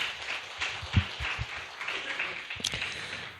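A church congregation at a Sunday worship service claps briefly, a modest, uneven patter of hands in a room with a few louder claps and low murmuring voices underneath.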